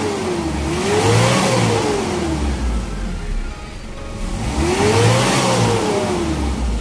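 A car engine treated with an additive revs up twice as the accelerator is pressed, each loud close rev rising in pitch, peaking and falling back toward idle, with a brief dip between them.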